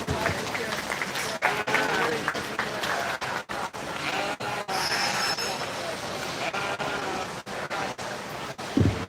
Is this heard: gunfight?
no